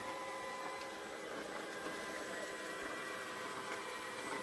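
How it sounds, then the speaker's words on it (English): A cheap toy-like robot vacuum cleaner runs across a dirty floor, giving a faint, steady motor whine and airy hiss that stays even and unbroken. "It's sort of pretending to be a robot vacuum cleaner."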